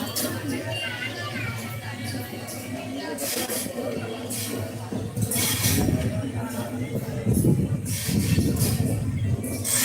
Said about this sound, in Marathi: ट्रेनमध्ये आहोत आम्ही